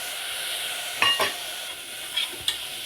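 Brinjal and pumpkin sauté in hot oil for a village-style mutton curry with vegetables, giving a steady close sizzle broken by a few brief scrapes and clinks of stirring.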